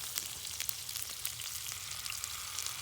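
Garlic paste sizzles in butter in a hot pan, a steady bright crackle and hiss running throughout with small popping spikes, close and fairly loud.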